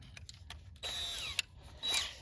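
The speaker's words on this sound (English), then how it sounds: "drill the holes" A power drill whirs in two short bursts as it bores holes into a plastic bucket, close and fairly faint, with small clicks and taps between the runs.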